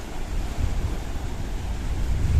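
Mediterranean Sea waves on the Paphos promenade coastline in Cyprus, a low rumbling wash of surf with wind buffeting the microphone, steady and fairly loud with no talking.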